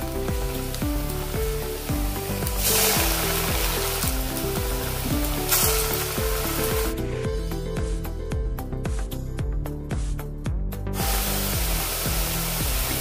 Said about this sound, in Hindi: ऐसे हमने गोला तैयार किया है और इसको हम तलेंगे